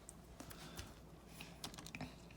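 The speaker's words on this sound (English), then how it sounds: "Now all I have to do is just type that into the handy-dandy calculator." Fingers press calculator buttons in a quick, irregular run of faint, light clicks over a quiet background.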